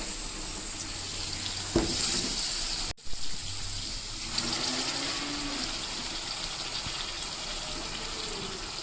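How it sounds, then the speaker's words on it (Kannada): Sambar gushes into a hot pan of tempering and a loud, continuous sizzle follows, with a brief clunk partway through and bubbling hiss carrying on to the end. "ಫ್ರೈ ಆದಮೇಲೆ ಇವಾಗ ಸಾಂಬಾರು ಮಾಡ್ಕೊಂಡಿರ್ತೀರಲ್ಲ, ಆ ಸಾಂಬಾರನ್ನ ಈ ಒಗ್ಗರಣೆ ಒಳಗಡೆ ಹಾಕಬೇಕು"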